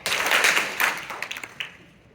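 A few sharp claps ring out in an echoing room, separated by pauses and trailing off into reverberation.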